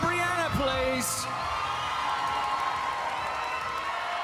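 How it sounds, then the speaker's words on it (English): Audience applause and cheering at the Miss Teen USA 2022 pageant, a steady broad roar of clapping and crowd noise that follows a brief voice and holds evenly to the end. "How about a big round of applause for Brianna"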